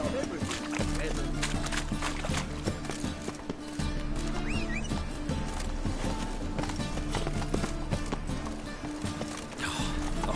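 Horse hooves clip-clop at a run in The Witcher 3, a steady rhythmic pounding beneath a constant layer of music and ambience.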